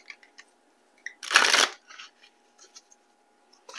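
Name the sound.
shuffling a Celestial Cosmos tarot deck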